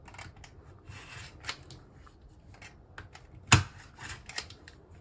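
Scissors cutting through layers of fabric along a paper template, a series of soft, quiet snips and rustles with one sharper, louder cut near the middle, close by and with no talking.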